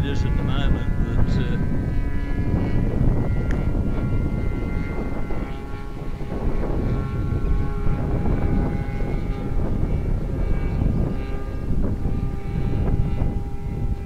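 The engine of a de Havilland Beaver aircraft in flight drones loudly and steadily from inside the cabin, a continuous propeller roar that never lets up while people talk over it.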